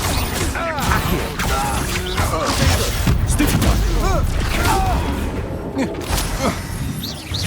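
Incendio fire spell cast during a fight in Hogwarts Legacy, a loud crackling, booming burst of magical blasts and thuds layered with shouted combat voices and whooshing effects, dense and close throughout.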